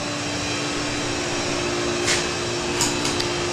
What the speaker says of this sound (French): c'est ici qu'est le filtre de la piscine, puis des équipements pour pomper l'eau